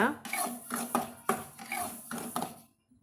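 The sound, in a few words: rava being stirred and roasted in a pan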